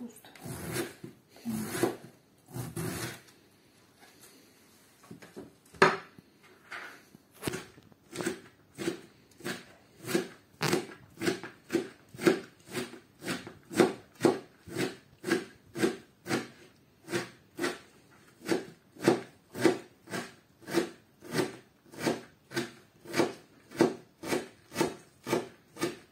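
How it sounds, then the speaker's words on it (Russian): A knife finely chops young cabbage on a wooden board: a steady run of close, crisp cuts, a few rubbing strokes at first and then rapid regular chops, with no talking. "Тут надо мелко нарезать капусту."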